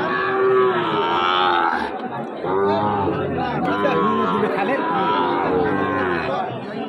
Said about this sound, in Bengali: পর্যাপ্ত গরু আছে দর্শক।